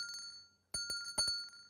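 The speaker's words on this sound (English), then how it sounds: "I've got my bell here." A small hand bell rings in a few quick, light, bright chimes with sustained metallic overtones, quiet and close, with a short pause between strokes.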